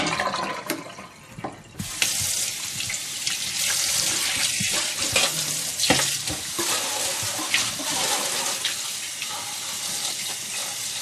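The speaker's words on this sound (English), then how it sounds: "my mom washes the Fat Toi at least twice" Water runs from a kitchen tap while fat choy (black moss) is rinsed and swished in it, a steady loud splashing hiss with brief sloshes and clatters, no voices.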